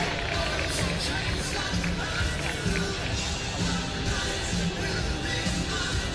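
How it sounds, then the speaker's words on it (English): Dense applause and scattered cheering fill a large outdoor rally crowd, steady and loud from start to finish with no break. "Let's give a big round of applause for Lorenzo"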